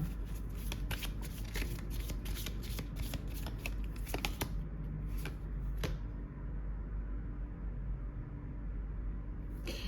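Cards shuffled for a card reading, a quick run of riffling flicks close by, then a few isolated snaps before the sound fades to quiet room tone.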